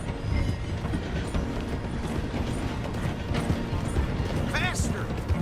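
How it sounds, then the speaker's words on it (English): Train rumbling along the tracks in Red Dead Redemption 2, slowing as it passes through a station, with steady rolling clatter and mechanical noise throughout, a brief whistle-like tone near the end, and game voices talking over it. "The train is slowing down to go through the station."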